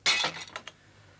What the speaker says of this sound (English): reached out for his glass of orange, which slipped through his greasy fingers and crashed onto the floor